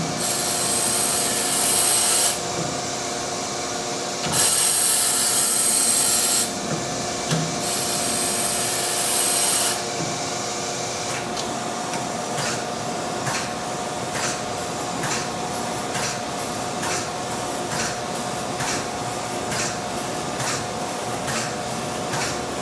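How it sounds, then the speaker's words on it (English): A Chevalier AD III series grinder with an auto dresser does fine grinding: a steady, dense mechanical hiss and hum, with bright high-pitched bursts early on and then regular light ticks through the continuous grind, with no talking. "and we will begin fine grinding."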